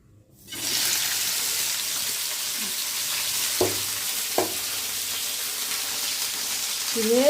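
Vegetables hit hot oil in a pan and sizzle loudly and steadily, the frying starting abruptly after a moment of quiet and continuing with a couple of faint clinks under the hiss.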